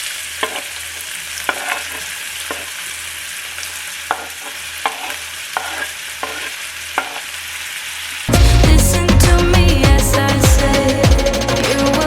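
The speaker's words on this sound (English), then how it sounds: "Now we can add our onions" Onions and garlic fry in olive oil in a pan for a Dominican village breakfast, a steady low sizzle with periodic stirring clicks, then a sudden much louder burst of crackling frying for the last few seconds.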